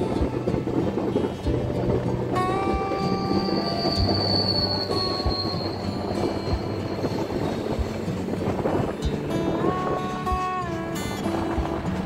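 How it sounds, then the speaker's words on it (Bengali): Heard from inside a 3A coach, the Howrah–SMVT Bengaluru superfast express (12863) races at full speed near Keonjhar toward Cuttack, with a constant loud rumble and rattle and several drawn-out whining squeals from the wheels. "ট্রেন তার ফুল স্পিড নিয়ে ছুটে চলেছে নেক্সট স্টপেজের দিকে।"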